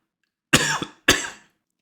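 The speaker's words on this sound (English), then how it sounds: "I've been getting these coughing fits" Two harsh coughs in quick succession, close and loud, with silence before and after.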